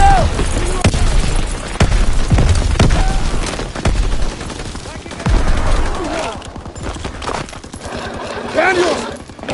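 Heavy battlefield combat in Call of Duty WWII: loud grenade booms and bursts of rifle and machine-gun fire, close and repeated, with shouted voices mixed into the chaos.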